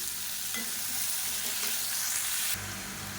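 Tomatoes and onions sauté in oil with salt, giving a close, even sizzle with a few soft stirring scrapes before it drops away suddenly near the end, with no voices.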